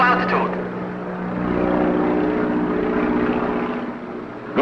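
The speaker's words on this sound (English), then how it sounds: "Captain! Seaplane offshore, flying at low altitude." Propeller seaplane passing offshore at low altitude, a loud droning engine hum that swells and holds, with someone speaking over it.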